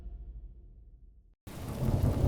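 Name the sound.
rain and thunder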